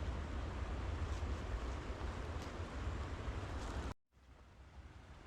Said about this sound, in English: Water still flowing even with the temperatures.